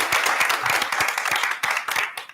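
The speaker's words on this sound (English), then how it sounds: "Big round of applause." An audience at a school board meeting applauds in a short, dense burst of clapping that holds steady for a couple of seconds.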